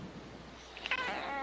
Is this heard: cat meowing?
yes